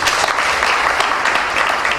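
Wedding guests applaud loudly and continuously at close range, forming a dense, even wash of clapping.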